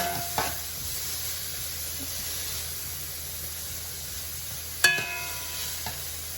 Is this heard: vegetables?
yes